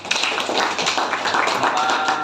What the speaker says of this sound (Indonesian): kalian semua kalian beri tepuk tangan untuk kita semua